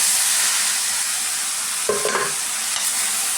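Boiled pumpkin pieces fry with onions in a pan, a steady close hiss of sizzling oil with a brief stir and scrape of a spoon near the end.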